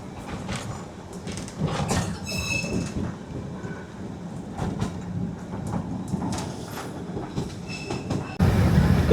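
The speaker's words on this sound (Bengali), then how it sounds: "ট্রেন পুরো সুকনা ফরেস্টের ভিতর দিয়ে এখন ছুটে চলেছে।" The Darjeeling toy train, locomotive 52545, rumbles through Sukna Forest with rattling wheels, clanking couplings and occasional squeals, a steady moving clatter that grows louder near the end.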